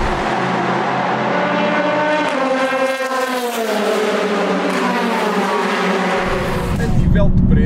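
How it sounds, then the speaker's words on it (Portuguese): Nissan 370Z NISMO with its V6 engine revving hard, a loud, rising and falling engine note that climbs through the revs, close and continuous. "Mas é um motor muito alegre em altas, com V6, roda muito bem."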